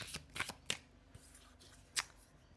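Tarot cards are shuffled by hand, several quick crisp riffling bursts at uneven intervals, close and fairly quiet, with no talk.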